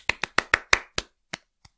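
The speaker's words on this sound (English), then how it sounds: "The awkward smattering of applause between movements from people who aren't sure if they should clap." A few scattered, hesitant claps from a concert audience between movements, about seven sharp isolated hand claps spaced unevenly and thinning out, the last ones fainter, with silence in between.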